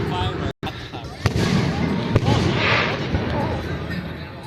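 Fireworks bursting at a firework show, a steady rumble of distant booms and crackles with a few sharper pops, while excited people exclaim and talk over it.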